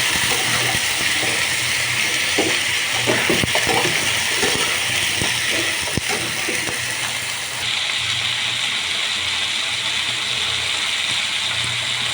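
Meat and potatoes frying together in a pan, a steady loud crackling sizzle with scattered clicks and scraping, continuous throughout, no talk.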